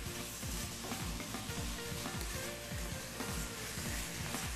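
Carrots and sugar sautéing in a pan for a hazelnut carrot dessert, a steady soft sizzle with repeated rhythmic scraping strokes of a spoon, close and continuous with no talking.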